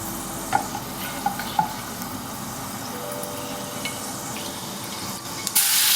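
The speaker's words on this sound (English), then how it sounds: "add 1 teaspoon of fenugreek seeds and fry for a few minutes" Fenugreek seeds frying in oil in a pan while fish pickle is made, a steady close sizzle with occasional clicks of stirring, and a brief burst of running water near the end.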